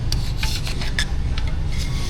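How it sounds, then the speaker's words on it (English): A hand scraper with a dull edge rasps gasket material off the engine skirt of a 2020 Silverado 6.6, making close, repeated scratchy strokes in an uneven rhythm over a low background hum, with no talking. "It's not sharp, it's just a good edge, which does wonders on this gasket material."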